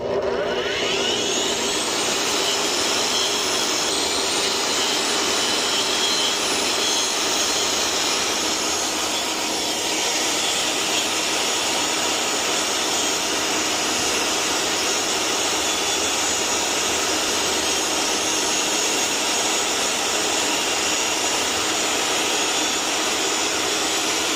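A Bihui TCSA1200A automatic wet tile saw runs with a steady, loud, high-pitched whine and broad whirring hiss that spins up at the start and holds constant throughout, with no talk over it.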